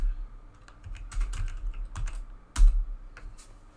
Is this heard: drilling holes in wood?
no